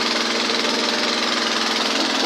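A small homemade generator engine runs steadily at high revs under load, a dense continuous drone with a fast rattling pulse, loud and close, with no pauses.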